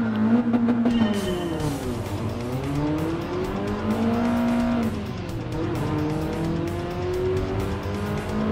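A late-1980s BMW M3 Sport Evolution races on a circuit in Gran Turismo Sport, its engine note rising and falling through gear changes and corners, with tires squealing, loud and continuous throughout.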